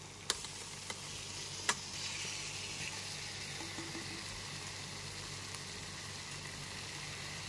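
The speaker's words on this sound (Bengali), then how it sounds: "আলুগুলো মশলার সাথে খুব ভালো মতো কষিয়ে নেবার পর এর মধ্যে ভেজে নেওয়া বেগুনগুলোকে দিয়ে দিচ্ছি।" Steady low sizzle of fried eggplant pieces going into a pan of spiced potatoes, with a few sharp clinks at the start and quiet stirring sounds over a constant faint hiss.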